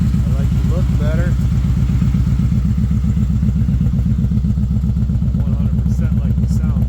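A 2022 Kawasaki Vaquero with a Freedom Performance 2-into-1 Combat exhaust idles loud and close, its deep, steady throbbing pulses running through the whole stretch with a few faint clattering thumps.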